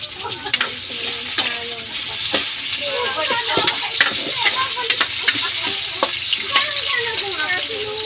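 Potatoes fry in a pan while being stirred, giving a steady, close sizzle broken by repeated scraping and clattering stir strokes.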